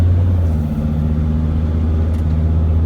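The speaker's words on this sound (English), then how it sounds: "I'm gonna try to make a little U-turn down here and try to accelerate it again" A turbocharged car with a turbo underboost fault pulling away after a U-turn, its engine droning low and steady from inside the cabin with a constant rumble and no clear rise.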